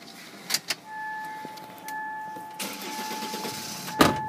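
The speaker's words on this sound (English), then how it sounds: "the diesel starts really easily, straight away" A 2005 SsangYong Stavic SV270 diesel with 137,000 km turns over and catches, preceded by a few interior clicks and a steady electrical whine, then settles into a close idle.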